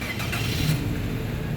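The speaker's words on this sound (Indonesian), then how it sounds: "Sekarang kita coba start mobil ya." A 2014 Daihatsu Sirion 1.3 automatic car engine starting, heard up close as a short, steady low rumble that settles into idle, with no talking.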